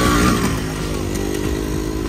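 Motorcycle engines rumble and rev steadily as bikes ride up the ramp at a ferry port, a continuous loud, rough drone close by with no talking.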